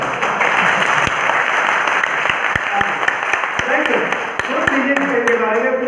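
A training-seminar audience in Bhopal gives a round of applause, steady close clapping with occasional sharp individual claps, while voices talk over it.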